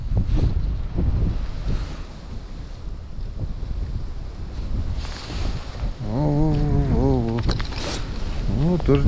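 Wind blows hard outdoors at a lake, a steady buffeting roar across the microphone with water and rustle underneath, and someone speaks briefly toward the end.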